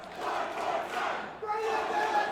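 A wrestling crowd at a live match chants and shouts together in a loud, rhythmic roar that swells and dips, with a brief lull partway through before the noise rises again.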